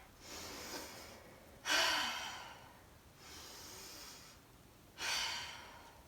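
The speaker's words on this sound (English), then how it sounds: "We'll do 3 deep breaths" Three deep breaths taken during a kindergarten gym exercise, each a broad, breathy inhale-exhale rising in loudness, close to the listener, spaced about 1.5 seconds apart, with no talking.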